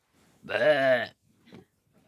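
A man mimics a goat's bleat with one loud, quavering nasal cry lasting over half a second, then a short faint sound and silence.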